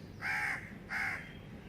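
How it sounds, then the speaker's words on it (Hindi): Two loud, harsh caws from a crow, close by, each lasting about a third of a second with a short gap between, no talking. "ये कौवा किसने भेजा?"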